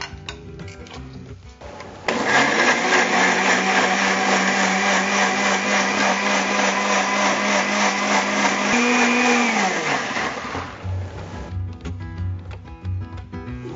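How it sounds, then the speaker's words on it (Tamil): A kitchen mixer grinder whirs loudly while blending a fruit juice with a pinch of salt, a steady high-pitched motor roar that starts abruptly, runs for about eight seconds and then winds down. "இப்போ மிக்ஸில நல்லா அரைச்சுக்கலாம்"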